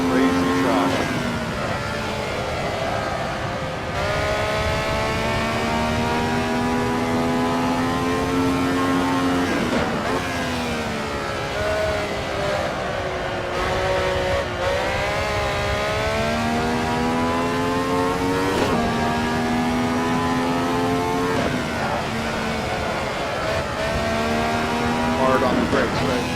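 Can-Am race cars howl around a track on a flying lap, engine notes rising and falling through gear changes and braking, loud and continuous, with someone talking over the roar.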